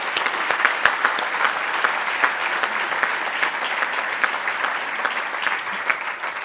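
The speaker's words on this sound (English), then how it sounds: "So please give yourselves a round of applause for the support over this many years." A school community audience at a Portland Public Schools gathering applauds steadily, with dense, sustained clapping from many hands filling the room at an even level throughout.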